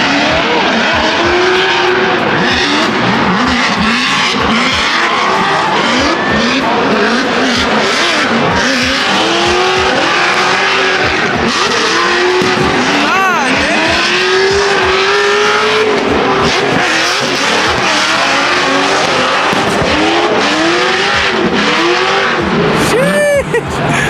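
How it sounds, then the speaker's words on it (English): A loud LS V8 in a drift car screams at high revs, its pitch sweeping up and down constantly. Tires squeal as the car slides. Voices talk over the roar, which stays close and continuous throughout. "You guys hear how loud the LS is, though? That shit is screaming, bro."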